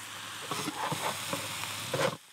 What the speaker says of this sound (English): so just give that a stir through again